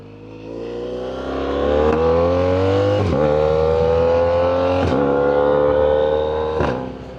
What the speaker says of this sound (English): this right now, the exhaust is perfect.